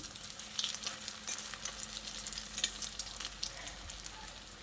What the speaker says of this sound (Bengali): দ্বিতীয় ব্যাচের বড়াগুলো ভাজা হয়ে গেছে।